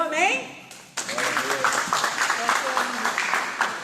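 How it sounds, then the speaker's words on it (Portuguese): A church congregation applauding after a service, sustained crowd clapping of moderate loudness with voices talking and calling out over it throughout. "Aplauda o Senhor"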